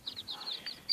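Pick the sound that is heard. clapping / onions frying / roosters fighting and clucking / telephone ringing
roosters fighting and clucking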